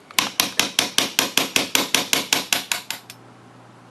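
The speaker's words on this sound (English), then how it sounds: "with my right hand I'm going to use the hammer and just hammer down" A hammer drives an agitator into a Rowe hopper with about fourteen steady, evenly spaced sharp strikes over three seconds, then stops, leaving only a low hum.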